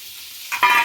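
Fish frying in a pan in a village kitchen, a sudden burst of close hissing sizzle that starts after a quiet moment and stays loud to the end.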